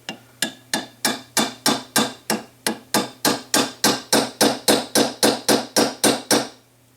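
A hammer drives a roll pin through an AR-15 barrel assembly for a 300 Blackout build, with about twenty sharp metallic blows at a steady, slightly quickening rhythm. The strikes are close and loud with nothing else heard.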